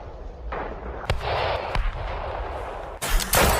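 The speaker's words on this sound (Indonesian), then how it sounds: "Terjadi baku tembak antara Belanda dan TKR" Gunfire exchange sound effect in a school play about the Battle of Ambarawa, loud sharp bangs and crackling bursts over a rumbling roar, with a heavy burst of shots near the end.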